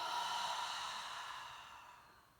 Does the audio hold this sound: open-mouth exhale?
yes